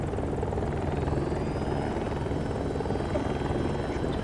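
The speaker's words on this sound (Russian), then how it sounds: "Я еще раз попробую на вертолете." A helicopter in the Battlefield video game drones steadily and loudly with constant rotor and engine noise, unbroken from start to end and with no voices.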